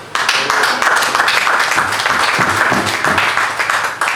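Church congregation clapping for Jesus during an evangelistic sermon, a dense, steady wash of many hands filling the room, loud and continuous with a few voices mixed in.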